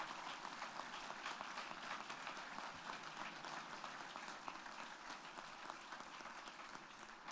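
A college inauguration audience gives a sustained round of applause for the new president. The clapping is dense and even throughout, fairly distant and soft, with no speech over it.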